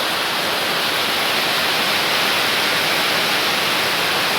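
Heavy rain pours down in a dense, continuous hiss, loud and even throughout with no pauses or other sounds standing out.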